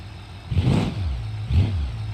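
A pickup truck engine in the game BeamNG.drive revs twice in quick bursts, rising and falling over a steady low idle rumble, close and fairly loud.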